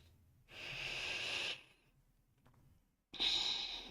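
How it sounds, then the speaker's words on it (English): Two deep breaths, each a long, close, hissing inhale or exhale of about a second, separated by a quiet pause, taken during a calm meditative grounding before a rune reading. "So we're going to take a couple deep breaths here."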